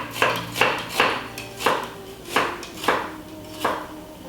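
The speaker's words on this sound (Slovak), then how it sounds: "Vždy sa snažte krájať cibulu v smere, nikdy ju nekrájajte priečne, čiže aj ja ju teraz budem krájať týmto spôsobom." A knife slices an onion lengthwise on a cutting board for a vegan Szeged goulash, giving about eight crisp, evenly spaced chops up close with no talk.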